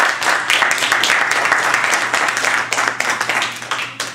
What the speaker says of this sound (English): And let's give her another round of applause.